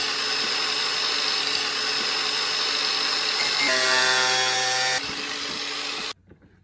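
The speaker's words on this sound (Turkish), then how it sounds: "Spiral motor ve falçata yardımıyla kesim işlemine başlıyor." A rotary spiral tool cuts into a 7.5-litre metal paint can with a loud, steady high whine and grinding, pitch shifting as the load changes, then cutting out abruptly near the end; no voices.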